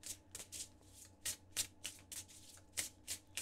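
Oracle cards are shuffled by hand close up, giving a series of quick, crisp riffling bursts in an uneven rhythm, quiet and alone.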